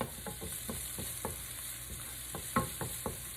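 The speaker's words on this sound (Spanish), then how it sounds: "Ahora agregamos media cebolla finamente picada y la vamos a sofreír." Finely chopped garlic and half an onion sauté in hot oil, a steady close sizzle and crackle with occasional stirring scrapes throughout.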